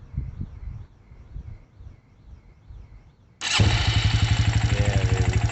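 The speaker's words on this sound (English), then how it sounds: "This is how you know your carburetor is adjusted correctly when it fires up like that." A 2007 Suzuki LTZ 250 quad with a freshly rebuilt Mikuni carburetor fires up after some quiet handling noises, then settles into a loud, steady, rapid engine chug close by.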